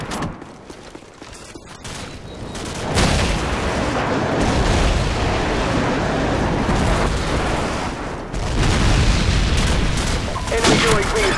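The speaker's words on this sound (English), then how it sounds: "friendly airstrike on the way." Airstrike explosions in a video game: dense, continuous booming and rumbling blasts that swell louder partway through and roll on without pause, with faint game voices underneath.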